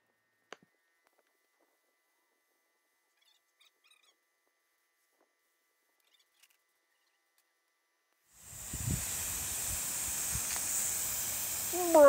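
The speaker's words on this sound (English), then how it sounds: "so we sprayed both sides out in the open on this day" A paint sprayer coats the side of a Rialta RV with primer outdoors, a steady airy hiss that starts abruptly after a long near-silent stretch and continues for about four seconds.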